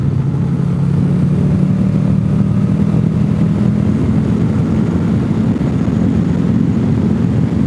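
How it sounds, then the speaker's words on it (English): A loud, continuous low rumble of Harley-Davidson motorcycles riding past on a mountain road, sustained engine drone close by for several seconds with no talk. "Harley gang! Yay! Harleys!"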